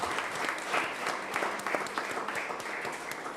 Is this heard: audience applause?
yes